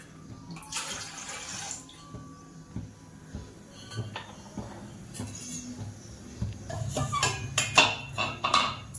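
Water is poured into a cooking pot for boiling sago (sabudana) for papads, in uneven splashing bursts, with occasional clinks of metal utensils nearby.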